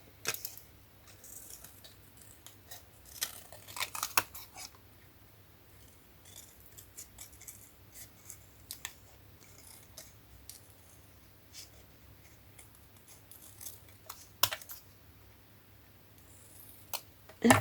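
Scissors snipping paper tags at close range: scattered faint clicks and short crisp cuts spread irregularly through a quiet room, with a few sharper snaps and no talking.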